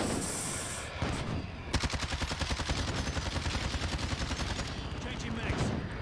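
An enemy gunship firing during a Warzone match: a long, rapid, rhythmic burst of heavy automatic fire, loud and steady for several seconds after a brief lull, with faint game sounds around it.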